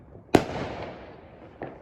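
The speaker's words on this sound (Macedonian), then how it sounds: "Еве првите огномети." A New Year's Eve firework bursts with a sharp, loud bang that rumbles away over a second. A second, fainter pop follows soon after, heard from outdoors at moderate distance without talking.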